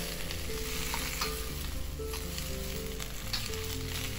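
Capcay vegetables, carrots among them, sizzle and crackle steadily in a hot pan while being stirred, a continuous loud frying hiss with no voices.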